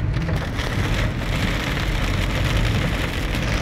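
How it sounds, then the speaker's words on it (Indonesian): Heavy afternoon rain pours steadily onto surfaces during a flood at an industrial estate in Karawang, a dense continuous hiss with no voices. "Hujan sore ini sangat deras ya."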